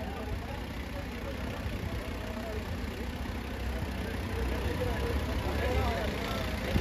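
At a tractor pulling contest, a tractor engine drones low and steady under crowd noise and an announcer's voice, building slightly in loudness toward the end.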